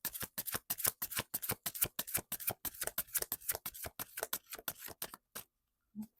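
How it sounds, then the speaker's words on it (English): A deck of oracle cards is shuffled by hand, a rapid series of crisp riffling and flicking strokes close by, continuing for about five seconds before stopping in silence. "as I was shuffling, I got a message in there"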